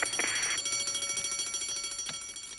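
Building intruder alarm ringing at a 1980s British business premises, a steady repeating electronic bell tone with fast pulsing, fairly loud and continuous, no voices.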